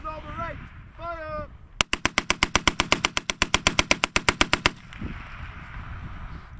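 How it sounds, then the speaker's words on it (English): A machine gun fires a rapid burst of evenly spaced loud shots during a commemoration demonstration of the Machine Gun Corps, preceded by a shouted command and followed by outdoor ambience. "200, figure 12 in front, 50 rounds at a normal rate, fire!"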